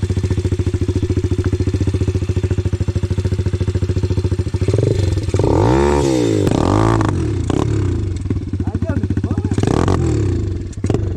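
An enduro motorcycle engine idles with a steady, close throb, then revs up in several rising and falling sweeps near the middle and again toward the end, with a voice talking over it.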